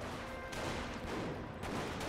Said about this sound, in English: Bren carrier firing away